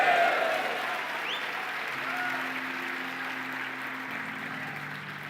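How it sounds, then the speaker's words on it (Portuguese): Applause from an audience at a Portuguese-language men's church conference, steady broadband clapping that is loudest at the start and eases slightly, with faint sustained tones of background music underneath. "Dê um glória a Deus e uma salva de palmas."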